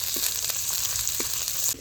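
Spices frying in hot oil in a pan for a village egg and potato curry, a steady close sizzle with a few soft stirring knocks.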